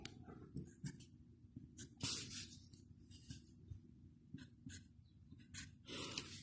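Scissors snip out sections of material while making a bow, giving a string of short, sharp, close cuts at an uneven pace with soft rustling in between.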